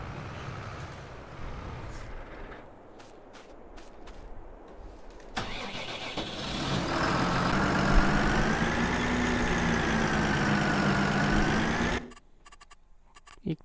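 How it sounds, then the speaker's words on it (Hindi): Tractor engine in Farming Simulator 22, rocked back and forth: quiet clicks and low rumble, then the engine fires up and revs loudly with a wavering, rising and falling drone before cutting off abruptly near the end. "तो ट्रैक्टर को ना हमने भाई आगे पीछे करना है"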